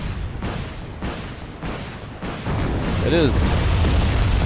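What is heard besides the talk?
artillery barrage in video game Wargame: Red Dragon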